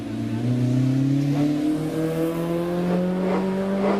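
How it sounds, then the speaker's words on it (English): A Volkswagen Golf GTI Mk1 rally car powers through S-bends on the Prescott course, its engine note climbing steadily through the gears with a buzzy, rising tone, close and loud and heard on its own. "Derek Wilkins there in that Golf heads on through the S's"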